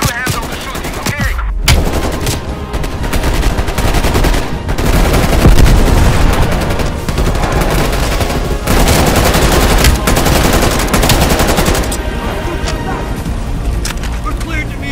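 Heavy gunfire from Call of Duty Black Ops Cold War, sustained automatic bursts and loud cracks layered with engine-like rumble, mixed with voices talking in a busy combat scene.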